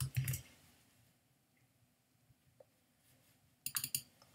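Short bursts of typing on a computer keyboard while coding in Xcode, a quick cluster of clicks at the start and another near the end, with a quiet pause between.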